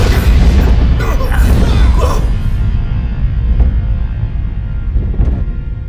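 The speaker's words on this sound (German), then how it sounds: "Die Basis explodiert in 5, 4, 3..." A deep, heavy boom of a base exploding in a Saber Rider radio drama rumbles low and loud, sustained over several seconds with a roaring low-end wash and a few sharp pops near the end.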